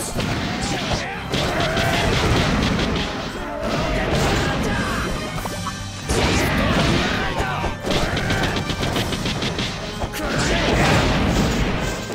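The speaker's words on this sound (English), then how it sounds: "he's shooting rockets out as well." Rockets launching in the One Piece: Unlimited World Red video game as Franky unleashes a super attack, heard as loud, dense bursts of crashing blasts and impacts in three long waves over continuous game effects and music.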